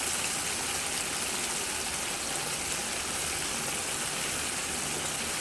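Chicken pieces frying in hot oil in a pot give a loud, steady, broadband sizzle and hiss that runs without pause, with no voices over it.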